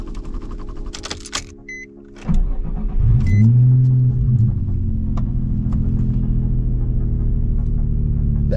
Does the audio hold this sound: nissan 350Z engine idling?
yes